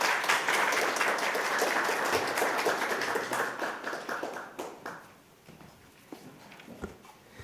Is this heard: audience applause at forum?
yes